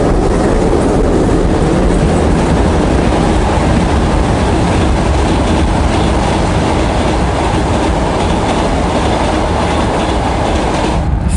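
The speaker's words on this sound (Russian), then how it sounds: "Товарный поезд промчался в сторону Киева." A freight train rushes past close by on a line toward Kyiv, a loud continuous rumble and clatter of wagons rolling along the rails for the whole stretch with no letup.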